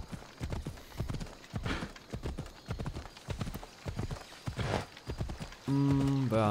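A horse's hooves gallop in steady repeating clip-clops as it is ridden across an island in Assassin's Creed Odyssey, close and clear, with a brief neigh or musical tone near the end.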